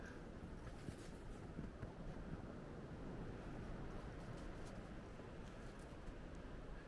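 Wind gusts blow outdoors in snowy weather near trees on the way to a beach, producing a steady, rumbling buffeting against the microphone with no pauses and no voices.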